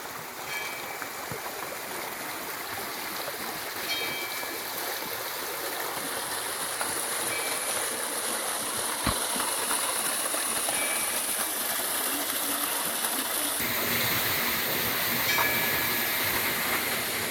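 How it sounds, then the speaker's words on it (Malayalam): A water-powered prayer wheel in Bhutan turns under a steady, close rush of flowing water that hisses continuously throughout, with a brief knock partway through. "ഇതാണ് വെള്ളത്തിൽ പ്രവർത്തിക്കുന്ന ഫ്രൈ വീല്."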